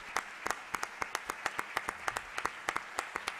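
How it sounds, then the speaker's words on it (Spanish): Applause for a finalist team at a science research prize announcement, a sparse, fairly quiet patter of individual claps in a loose rhythm, as if from a small group. "Un aplauso para ellos"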